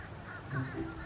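Crows caw faintly in the distance at a Florida nature preserve, a few brief harsh calls over steady outdoor background noise.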